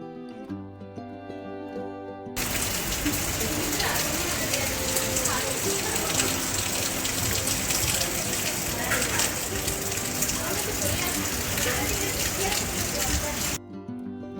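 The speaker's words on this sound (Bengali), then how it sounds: "ডিউটিতে এসে দেখি প্রচণ্ড ঝড় বৃষ্টি শুরু হয়েছে" Heavy storm rain pours down in a sudden loud, dense roar that starts abruptly and holds steadily for about eleven seconds before cutting off, with quieter background sounds at either end.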